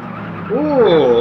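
A BMW CSL race car in GT Legends, its engine droning as the tires squeal in a rising and bending skid through a corner, loud and close, with a voice talking over it.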